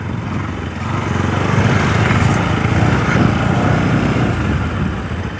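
A motorcycle carrying three riders hums along steadily, its small engine buzzing with rumbling wind noise. The sound is loud and close throughout, with no clear talk.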